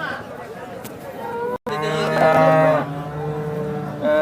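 Cows low loudly at a busy cattle market in Sangola, their long harmonic moos rising over a steady murmur of crowd chatter.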